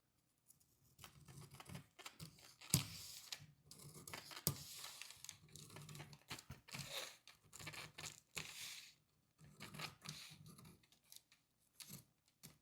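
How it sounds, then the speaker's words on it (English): Quiet snipping and crinkling of scissors cutting a paper sewing pattern around the bust dart, in slow, irregular bursts close by, with no talking. "This is my bust dart, so I'm going to take my time to cut it out."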